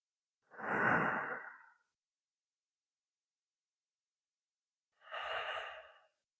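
Deep upper-chest breathing exercise: two slow, airy breaths, each lasting over a second, separated by a long silence, close and soft with no talking.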